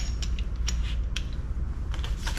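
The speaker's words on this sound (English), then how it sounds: "Get a little torque wrench here." A torque wrench tightening a bolt to about 132 inch-pounds on a truck, heard as a few sharp creaking clicks and light mechanical ticks over a steady low rumble, close by with no talking.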